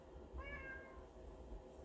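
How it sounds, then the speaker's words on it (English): A kitten shut in another room gives a single short, faint meow. It sounds muffled and distant over a low, steady room hum. "You might even hear my kitten meowing."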